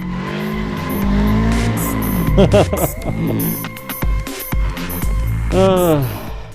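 In a driving video game played with a wheel, a car drifts around a corner with loud, close tire squeals and rising engine revs that sweep up and down, and someone talks over the sound.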